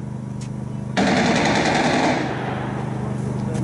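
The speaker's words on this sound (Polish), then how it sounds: "słyszeliście Państwo strzał" Rapid automatic gunfire erupts suddenly and loudly during a demolition exercise at a dam, a dense sustained burst that carries on and slowly fades under background noise.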